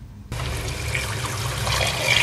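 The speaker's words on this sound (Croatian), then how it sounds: "Ja bi ulio litru vode za početak pa ćemo vidjeti kasnije." Water poured into a pot holding potatoes while cooking beans, a steady splashing stream that starts abruptly after a brief quiet moment and continues close and fairly loud, rising slightly toward the end.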